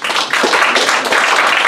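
Audience applause at a free speech summit, a dense, continuous wash of many hands clapping, steady and fairly loud throughout with no talk over it.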